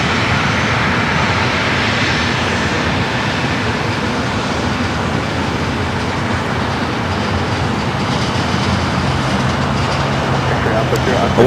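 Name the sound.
Hawaiian Airlines Airbus A321neo landing at LAX from Honolulu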